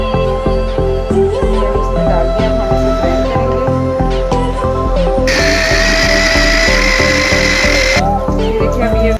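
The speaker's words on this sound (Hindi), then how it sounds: "अब हम इसको चॉपर में चॉपराइज करेंगे। इसको ग्राइंड करेंगे।" An electric kitchen chopper grinds food for a potato and egg curry with a loud, steady motorized whir and rhythmic chopping pulses. A higher whine rises for a few seconds in the middle.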